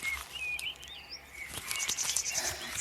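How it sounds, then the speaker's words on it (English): Birds chirp and tweet in a forest, with a few light high calls over a soft rustling ambience, fairly faint and brief with no voices. "All you can hear is birds and the trees swishing through the wind."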